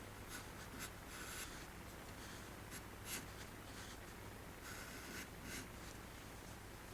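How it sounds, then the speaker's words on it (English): Charcoal sketching a dancer's arm on paper, a soft, close scratchy rubbing with short strokes repeating steadily and no talk. "we can start to like draw this arm that's coming across"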